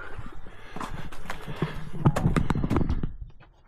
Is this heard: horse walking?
yes